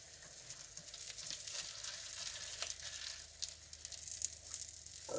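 Pancake batter cooks in a hot pan, giving a steady, quiet sizzle with faint crackles running evenly throughout and no voices over it.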